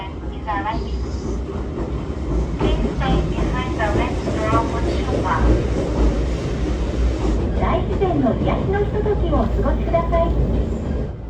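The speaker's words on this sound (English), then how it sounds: "we were riding trains and changing trains to ride a train" A train in Japan rumbles steadily along the rails with a low continuous roar and occasional clacks, while people talk in the background.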